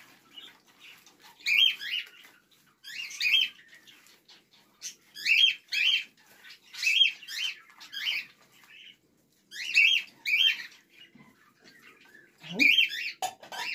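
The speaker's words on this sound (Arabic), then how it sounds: "طبعا اسفه على صوت العصافير" Sparrows chirp just outside a balcony in short, bright bursts of twittering that repeat every second or so, with brief quiet gaps between them. The birds sound moderately close.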